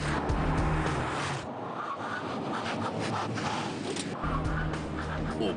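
Car tires skid and squeal under hard braking, a steady loud broadband roar that dips briefly mid-way before surging again.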